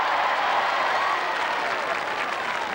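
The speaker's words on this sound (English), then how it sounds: "Give her a round of applause, please." Spectators at the 1987 Royal Knockout Tournament break into dense, sustained applause, a broad wash of clapping from a large outdoor crowd at a televised games event.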